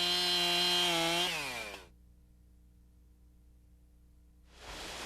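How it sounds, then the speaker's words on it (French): A chainsaw winds down from a high, loud running whine, its pitch sliding lower before dropping into near silence, then a burst of broadband noise returns at the end. "Une scie à chaîne bien affûtée permet d'abattre, débrancher et de tronçonner avec un maximum de sécurité et un minimum d'effort."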